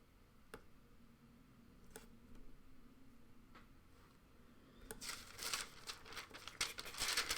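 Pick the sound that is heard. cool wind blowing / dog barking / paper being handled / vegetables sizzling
paper being handled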